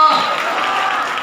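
A church congregation at a Hindi Bible study claps hands in praise, a dense, steady burst of applause lasting just over a second, loud and close.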